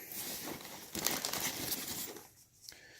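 Crinkly rustling and crumpling of a packed Frogg Toggs rain jacket being handled up close, steady for about two seconds before a brief pause and a few more soft crinkles.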